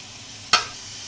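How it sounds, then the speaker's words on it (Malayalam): A single quick stir scrapes through tomatoes with turmeric, pepper powder and garam masala in a hot pan, one brief clatter over a soft continuous sizzle. "നല്ലപോലെ ഇളക്കി കൊടുക്കണം."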